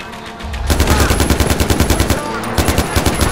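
Rifle fire in Far Cry 4 comes as rapid, loud, close bursts of repeated shots in a fast, regular rhythm that pauses briefly and then resumes.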